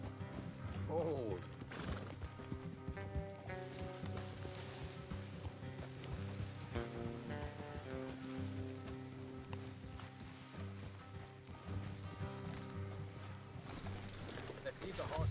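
Horses' hooves clip-clop at a walk along a road in Red Dead Redemption 2, a soft, fairly distant rhythm running under game music and talk, with a faint whinny near the start.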